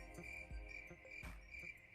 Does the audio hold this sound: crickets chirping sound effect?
yes